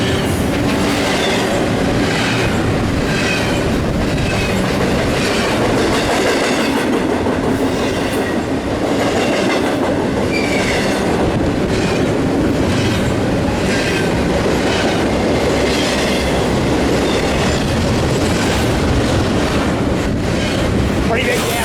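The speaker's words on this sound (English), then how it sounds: "Pretty big damn train here." A long freight train passes close by at Fullerton, a loud continuous roar of rolling wheels and rattling cars with heavy wind buffeting on the microphone throughout.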